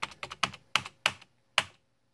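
Fingers tap out a short run of typing on a computer keyboard, about seven crisp, close keystrokes in uneven bursts with brief pauses between them, in an otherwise quiet room.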